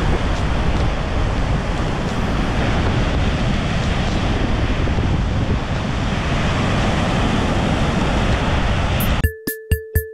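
Strong water rushes near Dynjandi waterfall in Iceland during heavy rain, a loud, dense, continuous roar close to the microphone that cuts off abruptly near the end, followed by a few sharp clicks.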